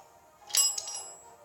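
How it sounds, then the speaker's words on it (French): A small bell rings during a Clash of Clans session: one bright, high ding with a quick shimmer that fades within a second, heard alone in a quiet room. "Pardon pour la petite sonnette,"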